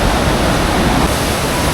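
Two Himalayan rivers, the Dhauliganga and Alaknanda, meet at Vishnuprayag in a steady, loud, unbroken roar of rushing water that fills the whole moment without any voices.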